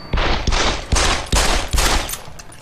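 Gunfire against a wall in the video game Deus Ex: Human Revolution, five loud bursts of rapid shots in quick succession, close and sharp with short gaps between.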